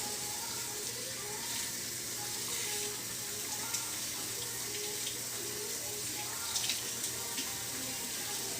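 Tap water runs steadily into a sink while a tie-dyed shirt is rinsed, a constant close splashing rush with occasional sloshes and drips as the fabric is wetted and wrung.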